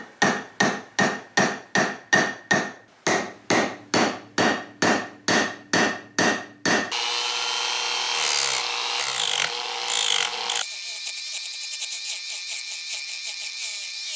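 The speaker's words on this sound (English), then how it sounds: "Going to do that here on the anvil with the ball peen hammer" Sharp metallic ball peen hammer blows on pins over an anvil while making a ladder Damascus knife, a quick steady rhythm of about a dozen close strikes in two bursts, then a louder whirring buffing noise.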